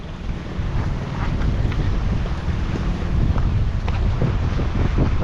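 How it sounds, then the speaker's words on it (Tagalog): Strong southwest monsoon wind roars steadily against the microphone while large brown-water waves surge and crash nearby, a dense continuous rush with no talk. "Ang lakas na oh, habagat na."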